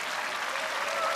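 A hospitable crowd at a table tennis World Tour match in Korea applauds steadily, a dense, even patter of many clapping hands filling the hall without pause, with no talk over it.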